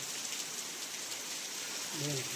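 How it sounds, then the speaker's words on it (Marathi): Rain falling in a village, a steady dense patter close by on surfaces, with a faint voice rising briefly near the end. "पावसाचं पण आगमन झालंय,"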